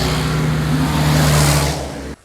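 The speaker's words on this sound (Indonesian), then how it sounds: "Kita tunggu mobil lewat satu lagi, guys." A car passes along a roadside, its engine and tyre roar loud and close, swelling to a peak and then cutting off abruptly at the end.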